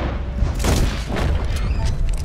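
A gunshot in the video game Red Dead Redemption 2, booming through a dense, rumbling game soundscape for a couple of seconds with no talk.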